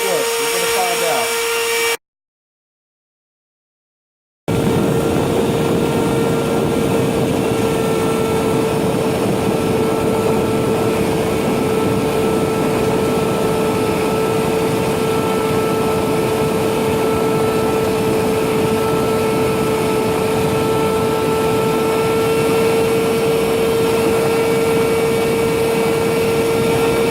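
An MPCNC machine cuts a driver bit organizer with a loud, continuous whine and a steady high tone, droning without letup after a short silent gap near the start.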